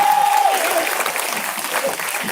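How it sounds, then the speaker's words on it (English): Audience applause at an awards gathering, a dense steady wash of many hands clapping throughout, fairly loud, with a brief high whistle-like tone at the start. "Give him a big hand."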